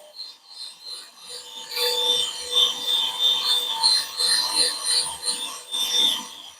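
Let's Resin 4-in-1 sanding and polishing machine running, a steady whirring rub with a high-pitched tonal whine, swelling and fading slightly as a piece is worked against it at close range.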